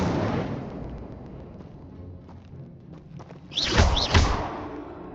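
Incendio fire spell in Hogwarts Legacy: a quiet rumbling lead-in, then a sudden whooshing burst of flame with two close, loud crackling pulses.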